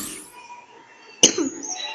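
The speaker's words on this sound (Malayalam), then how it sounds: "ചുമ ഉണ്ട് കേട്ടോ" A single sharp cough bursts out near the microphone after a quiet stretch of faint background sound, followed by a brief rough trailing breath.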